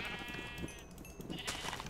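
Sheep in the Minecraft video game bleat in quick, wavering cries, one after another over a soft, busy background, fairly close and clear.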